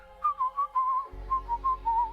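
Someone whistles a short melodic tune inside the video game Trüberbrook, a series of clear rising and falling notes in a steady rhythm over a low game background hum, with no talking.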